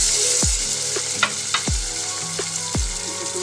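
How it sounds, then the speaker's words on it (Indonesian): Onions sautéing in a pan of melted butter and garlic give a steady close sizzle and crackle, with a few soft thumps and scrapes of stirring spaced through it and no talking. "Kita tumis sampai bawang besar ni lembut dan agak garing lah."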